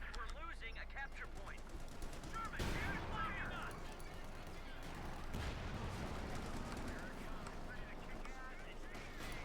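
Gunfire and tank fire during a Company of Heroes 2 battle between Panzers and a Sherman, a steady clatter of shots and blasts with a commentator talking over it.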